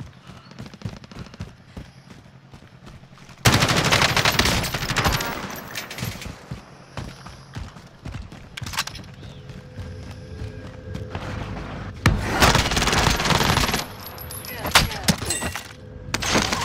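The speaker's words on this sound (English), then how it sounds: "Everybody's wandering around with a minigun." Rapid minigun fire and other gunfire in a multiplayer shooter video game, long dense bursts that start abruptly and return later in the clip, loud and close, with short pauses between volleys.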